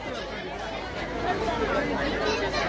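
A dense crowd's chatter fills a railway station, many overlapping voices blending into a steady, loud babble with no single speaker standing out.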